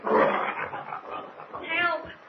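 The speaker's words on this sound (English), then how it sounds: "As he neared the entrance, he could hear the wild growling of the bear." A bear growls wildly in a radio drama sound effect at the mouth of a dark cave. The rough, rumbling growls rise and fall in waves, loud and close, with dramatic talk mixed in.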